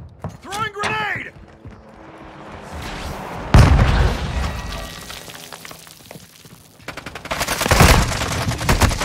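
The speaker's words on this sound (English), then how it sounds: "Throwing grenade!" A grenade explodes with a loud, sudden boom in a Call of Duty match, followed by sustained bursts of close gunfire and another heavy volley near the end; a voice is heard at the start.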